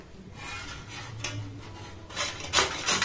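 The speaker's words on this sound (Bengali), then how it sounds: "তো আমি মিডিয়াম ছিদ্র দিয়েই কিন্তু পেঁপেটাকে খুব ভালোভাবে গ্রেট করে নেব।" Papaya rubbed against the medium holes of a metal plate grater, several scraping strokes that grow louder and rougher toward the end, close up with no voices.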